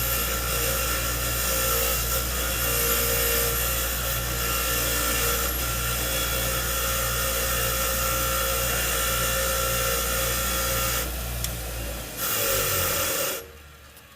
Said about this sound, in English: I'm going to throw it over here on my bench grinder real quick and just take the wire wheel,